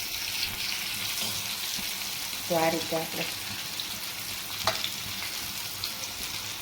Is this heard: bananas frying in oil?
yes